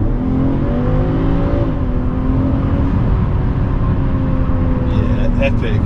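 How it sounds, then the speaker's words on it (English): BMW 540i xDrive fitted with a BMS performance intake accelerating in Sport mode, a loud, continuous engine drone rising in pitch with a high induction whistle over it and a gear change partway through; a voice speaks briefly near the end. "Beautiful induction whistle, it's absolutely awesome."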